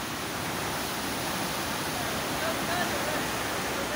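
Flood water rushes through Taunsa Barrage in Punjab, Pakistan, a steady, dense roar that holds the same loud level throughout with no pauses.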